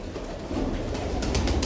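Soft, low cooing of a female pigeon nesting on eggs, steady and close, with faint background hum and no voices.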